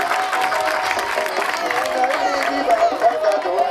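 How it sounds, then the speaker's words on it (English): Crowd clapping and cheering at an under-15 football academy anniversary awards ceremony as a nominee for most hardworking player comes forward; steady, fairly close applause with murmuring voices mixed in. "Clap for Bilal."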